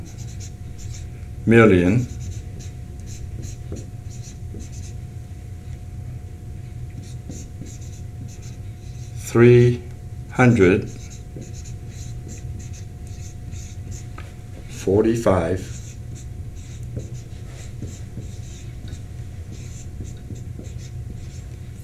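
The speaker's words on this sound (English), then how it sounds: "To express this number, you're going to write" A pen or marker writing out a number by hand, three short scratchy stroke bursts spaced apart over a steady background hum, with a voice speaking between them.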